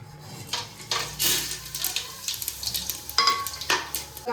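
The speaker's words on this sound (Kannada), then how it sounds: "ಆನಿಯನ್ನು ಹಾಕ್ತಾ ಇದ್ದೀವಿ." Onions hit hot oil and fry for biryani, a bright crackling sizzle with clinks of a pan and utensil as they are stirred, steady and close, no talking.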